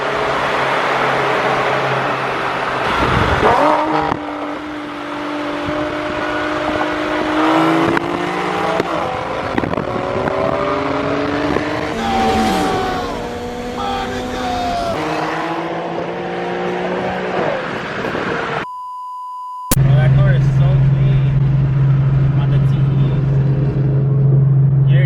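An Infiniti Q50 and a BMW M3 rev and accelerate hard in a roll race with rising pitch, loud and close, followed by a short silence and then a steady engine drone.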